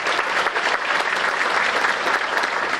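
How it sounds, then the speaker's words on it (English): Steady, dense applause from a concert audience for seventh-grade students after a winter school concert, loud and continuous throughout with no pauses. "Please give a round of applause for our students for all the hard work they put in."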